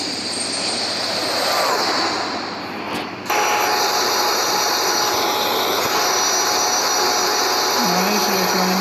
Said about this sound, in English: we have this nice view of the jet climbing